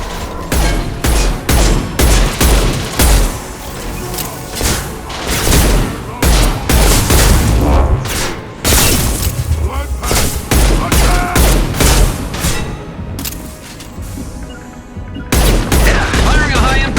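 Sustained gunfire in a Mass Effect 2 firefight, loud dense bursts of shots and booms in rapid volleys with brief lulls, battle effects layered throughout with occasional voice lines.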